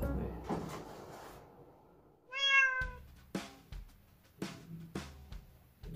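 A kitten gives a single clear meow amid quiet indoor sounds during a brushing session, followed by several soft knocks and clunks nearby.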